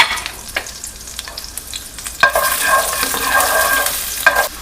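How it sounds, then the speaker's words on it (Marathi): Chopped garlic hits hot oil in a pan on high flame for chilli chicken: light stirring clatter first, then a loud, bright sizzle bursts in midway and holds steady, with scraping strokes over it. "पॅन गरम झालेला आहे आणि आता त्याच्यामध्ये लसूण टाकायचा"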